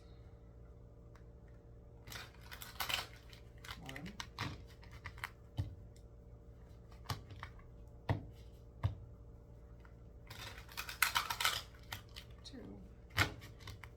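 Cards riffle and snap in several quick bursts of rapid flicking, close by, with brief counting from a voice between shuffles.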